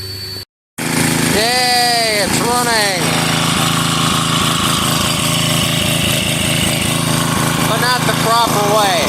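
A small engine being readied for sale runs steadily and loud up close, with a remote throttle, while a voice sings or talks over its rhythmic chugging.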